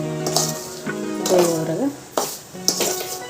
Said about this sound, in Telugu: కొబ్బరి రవ్వ మొత్తం కలిసిపోయేలాగా ఇట్లా కలుపుకుంటూనే ఇక ఇట్లా ఫ్రై కానివ్వాలి